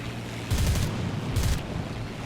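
Machine guns on an I-153P biplane fire in War Thunder, two short rattling bursts about a second apart over a steady engine drone, fairly near and loud.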